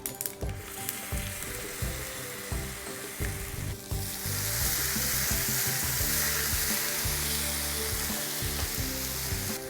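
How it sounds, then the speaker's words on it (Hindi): Onion chutney fries with curry leaves in a pan, a loud, continuous sizzle with stirring scrapes that grows fuller and steadier partway through. "इसमें अब हम चटनी को डालकर भूनेंगे"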